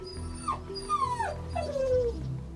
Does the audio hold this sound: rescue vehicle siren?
no